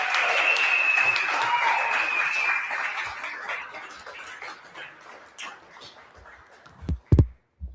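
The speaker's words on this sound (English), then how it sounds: "Big round of applause." An audience at a conference livestream applauding a speaker, with dense clapping that thins and fades over several seconds before a few sharp thumps from handling the microphone.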